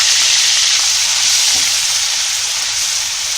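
Chopped onions sizzling hard in hot oil in a pan, a loud continuous hiss and crackle that stays steady throughout.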